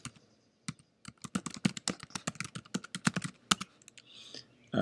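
Information being typed on a computer keyboard: a brisk, irregular run of close, crisp key clicks in a quiet room, with no talking.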